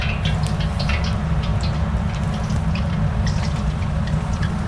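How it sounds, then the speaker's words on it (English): Aubergines frying in hot oil in a wok, a continuous loud sizzle with scattered spits and crackles over a heavy low rumble, steady throughout with no talking. "We're going to fry the aubergines."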